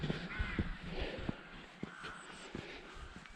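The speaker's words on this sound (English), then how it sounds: "I don't know if the crows, rooks. There's loads of them." Crows or rooks cawing in Trow Gill, a limestone gorge: a flock of them calling repeatedly at a middle distance over a steady outdoor hiss, with a few sharp knocks that could be footsteps, and no speech.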